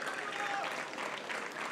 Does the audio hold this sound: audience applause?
yes